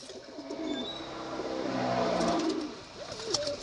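Domestic pigeons kept for sale cooing close by in low, rolling throaty bursts, with faint chirps and a distant car hum in the background.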